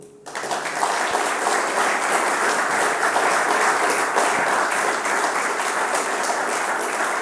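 Audience at an event on generative AI breaks into applause, a dense, even roar of many hands clapping that starts abruptly and holds steady and loud to the end, with no talking over it.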